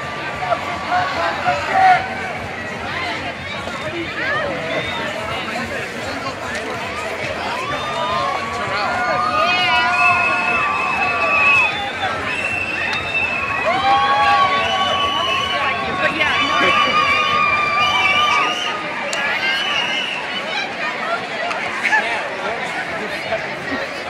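A dense crowd at the Pink Saturday street celebration, steady babble of many voices with shouts and laughter close by and all around, lasting throughout.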